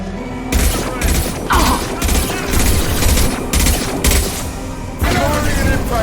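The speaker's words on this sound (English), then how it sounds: "Firing an impact shot." Impact shot gunfire in the Mass Effect 2 video game, a loud, close run of heavy blasts in steady bursts with short gaps, booming and crackling with shattering debris.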